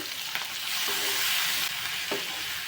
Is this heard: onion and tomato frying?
yes